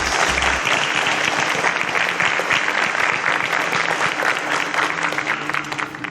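Studio audience applauds steadily as contestants leave the stage on a Nigerian TV quiz show episode, a dense continuous patter of many hands at close range, fading slightly toward the end.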